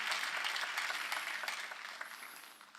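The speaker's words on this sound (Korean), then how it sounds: "박수로 하나님께 영광을 돌려야 된다는 거예요." A congregation applauds during a sermon at a Korean church, a fairly soft, dense wash of clapping from many hands that tapers off over a few seconds.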